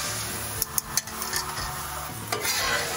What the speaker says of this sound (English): So now we're going to put on 2 eggs that have been whisked with a fork.